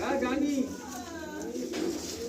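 Pigeons in a pigeon loft coo softly at close range, a low murmuring sound running continuously under a voice as he talks.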